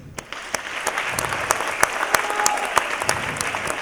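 Audience applause at a live theatre show, a steady bed of many hands clapping with sharp individual claps standing out, filling the hall at moderate loudness with no talk over it.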